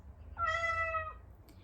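Percy, a Chongker robotic toy cat, gives a single clear, tonal meow lasting under a second, close and alone against a quiet background hum.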